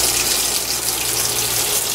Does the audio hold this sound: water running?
yes